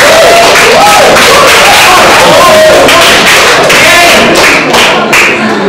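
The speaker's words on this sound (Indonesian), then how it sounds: "Kita beri tepuk tangan luar biasa untuk kelompok 2." Clapping from a classroom audience welcoming a presenting student group, loud and continuous, with excited voices and chatter mixed through it.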